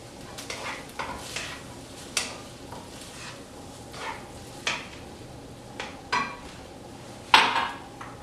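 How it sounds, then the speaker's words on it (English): A spoon stirs a chickpea curry in a pan, with light, irregular scraping clinks against the metal every second or so and a faint sizzle underneath, ending in one sharper knock. "so you're just going to stir that up"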